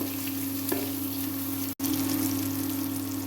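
Onions sizzle steadily in hot oil in a pan, a dense, even crackling hiss with one brief cut, close up and with no talk.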